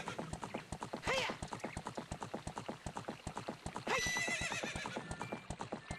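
Horse hooves clip-clop in a quick, steady galloping rhythm in Zelda: Ocarina of Time, with two loud neighs cutting in, near and clear with no talk.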